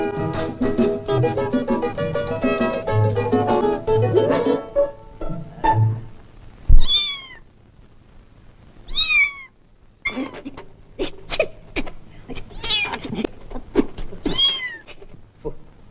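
A man imitates a cat, giving a run of rising, wavering meows, some drawn out and some short, loud and close. Music plays at the start and the meows then come alone in bursts.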